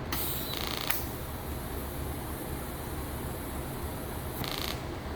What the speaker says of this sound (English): I'm going to put another tack right here.